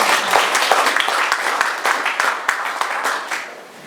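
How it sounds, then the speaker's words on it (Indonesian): Congregation clapping for the pastor during an Indonesian Sunday church service, with dense, lively applause and distinct individual claps standing out, slowly fading toward the end. "Kasih tepuk tangan untuk itu."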